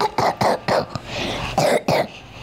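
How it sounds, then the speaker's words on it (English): A person coughs repeatedly, several sharp close bursts in a quick irregular series, heard while playing Genshin Impact with game audio quietly underneath. "I have cough."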